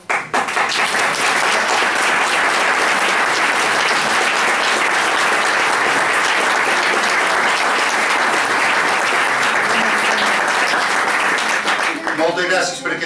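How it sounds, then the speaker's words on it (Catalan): Loud, sustained applause from an audience at a town fair event in Campos, Mallorca, filling nearly the whole span with dense clapping before it thins out at the end. "Moltes gràcies per aquest aplaudiment"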